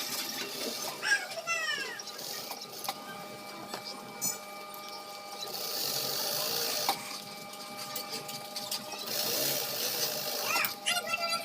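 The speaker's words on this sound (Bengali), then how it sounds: "জাস্ট এইভাবে সেলাই করে দিচ্ছি আপনারা দেখুন।" Fabric for pants is stitched in bursts of mechanical, machine-like whirring, heard under ongoing speech in a quiet room.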